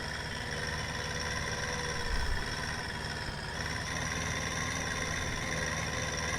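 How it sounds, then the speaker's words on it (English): Tractor engine in Farming Simulator 19 moving slowly, a steady mid-pitched drone that holds at an even, moderate level with no voices. "Our tractor is slowly moving."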